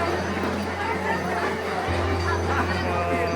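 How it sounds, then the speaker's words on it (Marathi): Dense crowd chatter and babble at Jejuri temple during the Champa Shashthi festival, a steady busy hubbub with indistinct voices throughout and a low constant hum underneath. "गर्दी आहे भरपूर."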